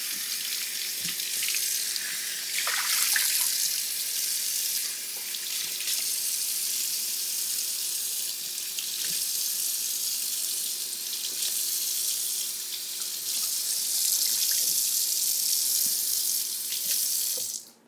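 Tap water runs steadily into a kitchen sink as mushrooms are washed for a one-skillet chicken, green bean and mushroom dinner, a continuous close splashing rush that swells slightly in places, with no talking.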